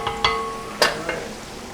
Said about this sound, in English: Okay, so now your sauce is simmering.